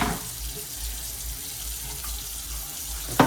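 Tap water runs steadily into a kitchen sink during dishwashing, a continuous close splashing hiss that ends with a sharp clatter.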